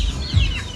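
Domestic chickens clucking softly in a brief burst of short, low clucks, close by, with no talking.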